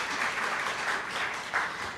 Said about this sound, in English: spontaneous applause